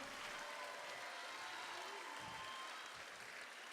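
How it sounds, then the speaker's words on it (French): Audience applause at the Olympia in Paris for the rapper and slammer Scylla at a benefit concert, a faint, distant, even wash of clapping filling the hall without a break. "s'il vous plaît, applaudissez-le très fort"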